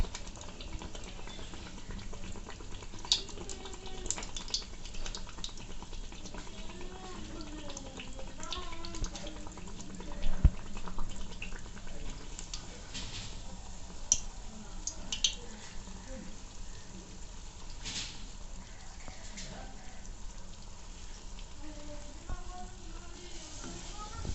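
Malpua (gur pithe batter) frying in oil in an iron kadai, a soft continuous bubbling and crackle at low level with occasional small pops and faint spoon sounds.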